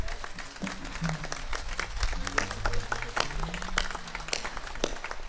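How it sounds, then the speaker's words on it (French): A crowd at an open-air Assumption Mass applauds a choir steadily, dense overlapping claps sustained from start to finish, with faint voices mixed in. "pour la chorale arc-en-ciel, on peut les applaudir."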